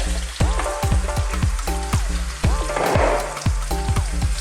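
Marinated beef frying in sesame oil, a loud, close, continuous sizzle with rapid crackling pops and bursts of spatter, heard alone without speech.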